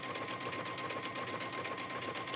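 A sewing machine fitted with a standard presser foot stitches side seams in a quiet, steady, rapid mechanical whir, heard up close without any voices.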